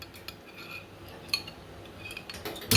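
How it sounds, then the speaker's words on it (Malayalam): A spoon stirs tender coconut pudding in a bowl with soft scraping and a few light clinks, faint and close, ending in a louder knock. "നമുക്കിതാ നന്നായിട്ട് ഇങ്ങനെ ഇളക്കി കൊടുക്കാം"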